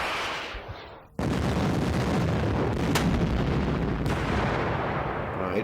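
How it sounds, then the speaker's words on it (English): Artillery fire in the Modern Campaigns Middle East 67 wargame erupts suddenly after a quiet fade, a dense sustained roar of booming shots and rumbling blasts that stays loud to the end. "Alright, good artillery support."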